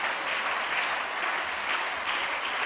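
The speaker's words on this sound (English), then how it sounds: "Keep, just be clapping hands. Don't stop until I say so." A church congregation claps hands together in sustained, dense applause during worship at a Nigerian service, the steady wash of clapping continuing without pause.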